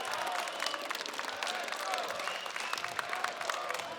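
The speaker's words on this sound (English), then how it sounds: "Might hear some clapping in the background. That's the crowd giving out some love over to Paravision" A crowd at the StarLadder Budapest Major esports event claps in a steady, fairly distant patter, with a caster speaking over it.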